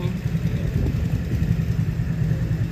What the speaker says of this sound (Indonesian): Tapi bisa langsam, mesinnya juga adem